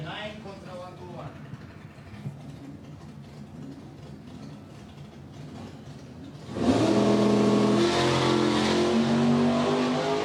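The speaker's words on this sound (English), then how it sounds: "The front-wheel drive diesel is going to want to build a little boost, whereas the V8 can just hit the throttle." A V8 drag car and a front-wheel-drive diesel drag car launch during a qualifying pass at drag racing finals. A quieter stretch with a faint background voice gives way to a sudden loud, sustained roar of revving engines.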